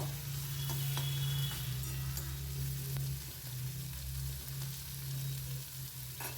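Onion fries gently in oil in a home kitchen, a soft, even sizzle with an occasional faint tick of stirring. A low hum runs underneath the whole time.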